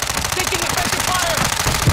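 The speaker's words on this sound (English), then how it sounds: "Taking effective fire!" Rapid automatic gunfire rattles through a Call of Duty: Modern Warfare II firefight, dense, loud and continuous bursts mixed with the clatter of combat, with voices talking underneath.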